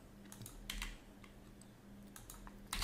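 Soft clicks on a computer keyboard come one at a time in an uneven rhythm, close and quiet, with no talking.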